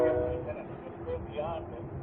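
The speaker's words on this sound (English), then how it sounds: "Choo-choo train!" A train rumbles past nearby with a low, churning roar and faint horn-like tones, fading slightly toward the end.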